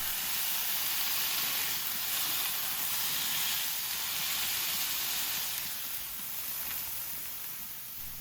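Thin smashed beef burger patties sizzle on a hot griddle, a steady, bright hiss of frying fat that carries on without a break at moderate loudness.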